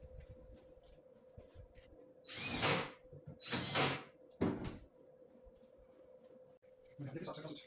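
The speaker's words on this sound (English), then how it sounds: "So now I can just screw the bottom onto the base." Screws are driven into the bottom of a century-old Wurlitzer band organ base, with two or three short whirring bursts from a power driver close by, separated by pauses, and faint background noise between them.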